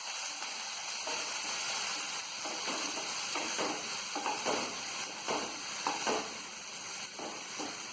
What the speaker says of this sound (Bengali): পেঁয়াজ বাটাটা একটু ভাজা ভাজা হয়ে গেছে।